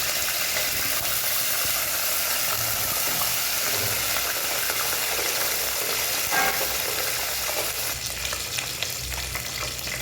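Curry leaves dropped into hot oil with cumin and mustard seeds for a drumstick thokku fry with a steady, dense sizzle and crackle that runs unbroken for the whole stretch, close and fairly loud with no talking.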